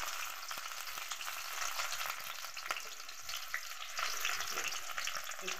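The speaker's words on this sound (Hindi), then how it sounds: "गर्म हो गया है, तो अब हम लगाएंगे प्याज का तड़का" Onion tempering sizzles in hot mustard oil for a spicy potato dish, a steady dense crackling fry with brief stirring scrapes and no talk.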